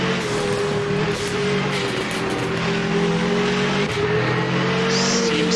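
Onboard engine drone of a rally car pushing through a stage on the Border Counties Rally, steady and loud with the engine note shifting as it climbs and eases through the gears.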